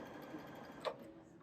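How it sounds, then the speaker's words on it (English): A Baby Lock sewing machine stitches with the locking stitch on, a quiet steady mechanical whir with one brief sharper tick partway through, heard alone and close. "Now I'm going to stitch."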